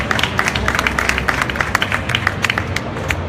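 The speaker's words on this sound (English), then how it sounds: "I'll give him a big warm round of applause" An audience at a live talk event claps as a guest comes on stage, giving loud, dense applause of many hands with sharp individual claps standing out, continuing steadily throughout.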